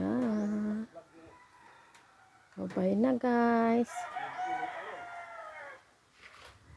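Chickens at a home under construction, where a temporary coop is being built, call in loud harmonic bursts and crowing-like cries, with someone talking over and between them.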